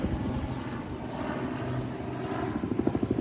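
Helicopter passes overhead near a riverside at sunset, its rotor producing a steady rapid thudding chop, fairly loud and continuous, with the blade beats growing sharper toward the end.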